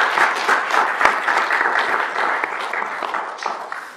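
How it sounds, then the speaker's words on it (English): Conference attendees give a quick round of applause to the panelists after a session on low impact development, dense clapping that gradually thins out toward the end. "can we give a quick round of applause to our"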